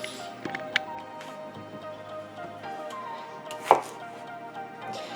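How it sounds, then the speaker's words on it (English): Scattered knife taps on a cutting board while chopping zucchini, a few sharp chops spaced irregularly, with one louder knock near the end over quiet background. "So now we're going to go ahead and get started on chopping up the veggies."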